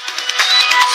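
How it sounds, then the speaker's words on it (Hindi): A mobile phone rings with a short electronic ringtone, a bright, fairly loud run of quick tonal pulses that fills the moment with no one speaking. "अरे फोन बाजा था।"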